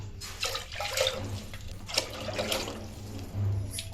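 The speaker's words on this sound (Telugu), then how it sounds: "నాలుగు గ్లాసులు వాటర్ పోసుకుంటున్నాం" Four glasses of water are poured steadily into a pressure cooker for rice-flour undrallu, a close gurgling stream with splashy bursts and no talking.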